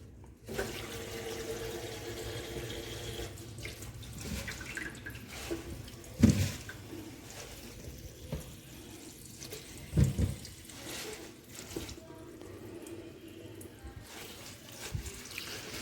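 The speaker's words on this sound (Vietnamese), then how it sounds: "Rửa rau thôi, rửa cho sạch hết bụi." Bidens pilosa greens are washed under a running tap, with steady flowing water, splashing and a few louder sloshes as the leaves are handled.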